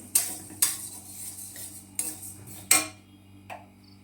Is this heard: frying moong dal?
yes